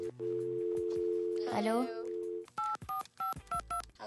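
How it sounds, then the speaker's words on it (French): A novelty duck-shaped telephone gives a steady dial tone, followed by a brief warbling chirp and then a rapid series of distinct dialing beeps; a voice speaks briefly amid the tones. "C'est quoi le problème avec ce téléphone?"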